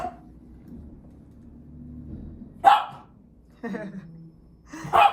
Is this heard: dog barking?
yes